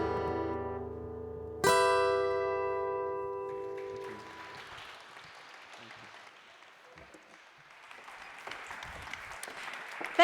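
An audience claps loudly after a live music performance at a Refugee Week concert, the applause starting abruptly over a fading sung note and ringing on steadily, with a voice speaking over it.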